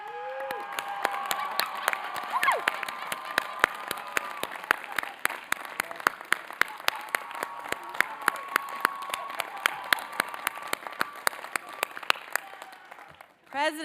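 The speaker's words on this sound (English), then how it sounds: "So please rise and cheer." Graduates at a Georgia Tech master's commencement cheering and applauding, a long sustained wash of crowd clapping and cheers with sharp individual claps scattered throughout, fairly distant in a large venue.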